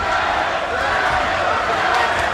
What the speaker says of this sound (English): Oh, listen to the crowd. They're appreciating this.